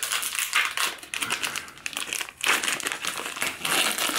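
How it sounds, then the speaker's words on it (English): Crinkly foil-and-plastic wrapper of a Cadbury gingerbread chocolate bar being torn open and unwrapped, close and fairly quiet, with irregular bursts of crackling and rustling. "Let's unwrap this."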